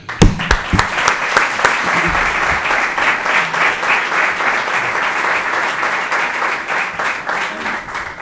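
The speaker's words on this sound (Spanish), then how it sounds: "os pido un aplauso para don Luis Miguel Parrado." A crowd at a bullfighting awards event gives sustained applause to welcome a speaker, starting with a few sharp claps and then holding a steady, dense wash of clapping.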